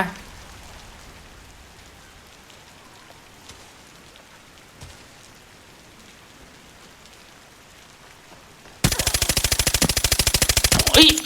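Rapid automatic gunfire in the video game Arena Breakout bursts in loudly near the end after a long, quiet stretch of ambient background noise, firing as a dense, fast string of shots.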